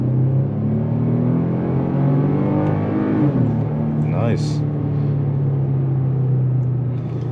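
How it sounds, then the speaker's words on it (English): A Chevy pickup truck engine drones loudly and steadily while accelerating uphill at full throttle, its pitch rising through a gear change, while a person speaks briefly over the rumble. "this truck sounds really, really good as it accelerates."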